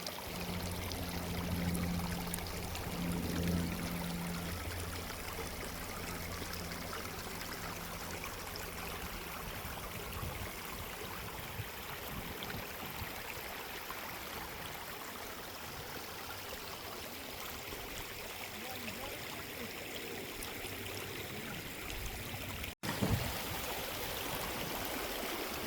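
Flowing water from a stream and waterfall in the Canadian Rockies, a steady broadband rush that continues unbroken throughout, with a faint low hum early on and a brief knock near the end.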